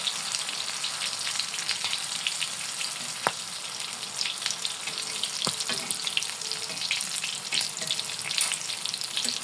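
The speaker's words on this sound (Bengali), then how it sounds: "এই পাশটা এখন ভেজে নেব" Egg-coated pointed gourd slices fry in hot oil in a pan, a steady soft crackling sizzle with a few sharp clicks and taps from turning the pieces.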